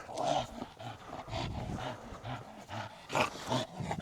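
A dog vocalizes through tug training, giving repeated low growling, roaring grunts in uneven bursts, loud and close, with no talk over it.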